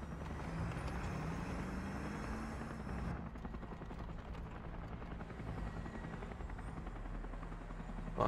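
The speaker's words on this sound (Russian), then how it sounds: "Вертолет, улетай." Helicopter in the War Thunder video game flying close, a loud steady rotor drone with low pulsing thump that continues unbroken, its higher whine dropping away partway through as the aircraft shifts.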